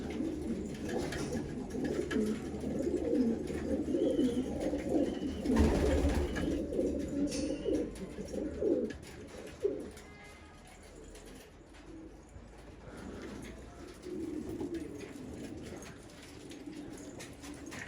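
Old-line purple Istanbul breed pigeons cooing in a loft, low throaty coos repeating steadily at close range, louder in the first half and softer later, with no talk.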